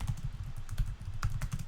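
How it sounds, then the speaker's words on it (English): Close, rapid typing on a computer keyboard while writing JavaScript code, a dense run of clicking keystrokes with a few louder taps and no talk. "I'm also noticing I'm getting quicker in my typing."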